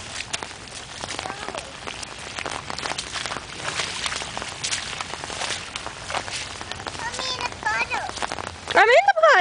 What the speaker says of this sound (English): You don't see me walking in the puddles?